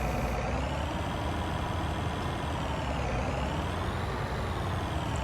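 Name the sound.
combine harvester unloading grain into trailer in a farming video game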